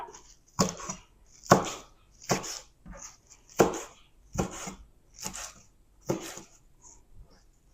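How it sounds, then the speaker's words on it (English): Fresh herbs, such as mint, are roughly chopped with a knife on a board: about eight loud, distinct chopping thuds at an uneven pace with quiet gaps between them, close up, no talk. "And I'll just roughly chop that."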